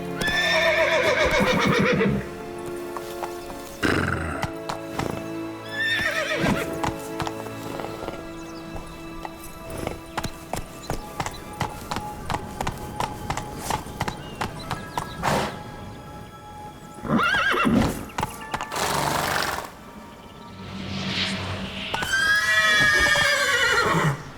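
Horse in The Witcher 3 video game, repeated loud neighs and whinnies at the start and end, with a rhythmic clip-clop of galloping hooves running through the middle.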